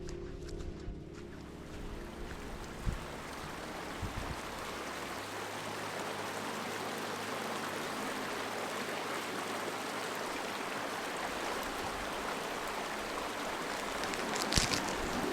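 A mountain stream in the Wyoming wilderness rushes steadily nearby, its dense broadband wash holding constant throughout with a few faint knocks and no talking.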